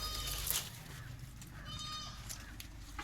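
A hornless Malabari-type dairy goat bleats a few short, fairly close calls over a quiet farmyard background with low rumbling noise.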